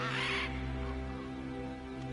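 Crow cawing in the video game God of War Ragnarok in Asgard, a loud harsh caw at the start over a steady low droning background.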